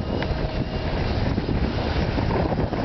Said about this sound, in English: Pretty windy too.